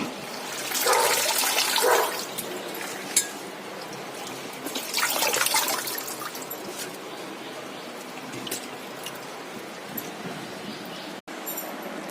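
Running water splashes and swirls as leafy greens and vegetables are rinsed in a kitchen, with two louder surges of washing followed by quieter trickling and handling; no talk.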